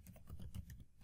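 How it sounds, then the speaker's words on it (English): Rapid typing on a computer keyboard while entering code in a browser console, a steady run of close, crisp key clicks with no talk. "So in the console, I'll type"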